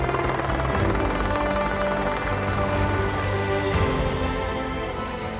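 Helicopter flying toward a remote Scandinavian mountainside cabin in winter, a loud steady engine drone with rotor hum that stays near and continuous throughout.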